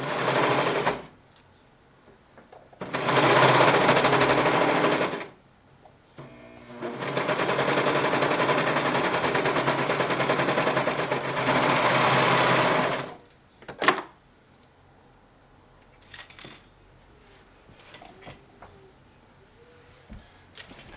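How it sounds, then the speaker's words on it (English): Serger overlocking a seam on a child's boxer brief, two loud sustained buzzing runs separated by a short pause, followed by fabric handling clicks and quiet rustling. "Now I'm going to go over that seam with my serger"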